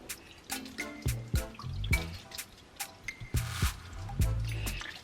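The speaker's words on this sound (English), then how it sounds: "Add the salted water to the peanut." Salted water poured and splashed onto peanuts in bursts, uneven wet drips and trickles with soft squishing as the liquid hits the nuts, close and fairly loud.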